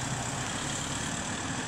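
A vehicle passes on a village street with a continuous, fairly loud engine rumble that holds steady and is heard alone.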